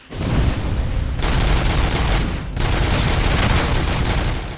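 Rapid, sustained automatic gunfire from a weapon in RoboCop: Rogue City, a dense loud burst with one brief pause before the firing resumes, with no talk over it.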